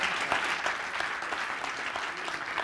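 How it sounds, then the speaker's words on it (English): An audience at a hackathon finals event breaks into steady, loud applause that fills the room evenly with dense clapping from start to finish. "A big round of applause for them."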